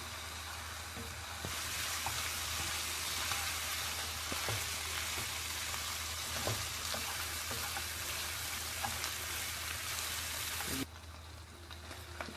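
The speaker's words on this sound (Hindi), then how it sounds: "सब्ज़ मिर्च 1 to 2 नॉर्मल सब्ज़ मिर्च डाल दें। तो थोड़ा सा भुनाई करनी है इसकी।" Green chillies frying with lamb pieces in a pan for a Peshawari namkeen roast, a continuous soft sizzle that swells after a second and stays even before dropping away near the end, with occasional stirring clicks.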